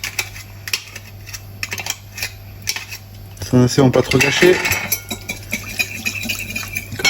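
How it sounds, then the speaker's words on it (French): A small whisk beats olive oil, vinegar and mustard into a dressing in a bowl, with a burst of quick metallic clinking and scraping in the middle, while someone speaks French. "Je me prends un petit fouet."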